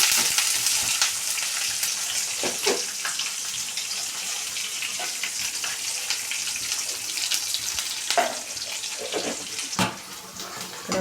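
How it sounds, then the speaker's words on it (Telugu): Red chillies and curry leaves sizzling in hot oil in a pan for pachi pulusu, a steady loud crackling hiss with sharp pops and spatters scattered throughout, no voices. "మిరపకాయలు కరేపాకు వేసుకొని ఒకసారి కలుపుకున్నాం దీన్ని"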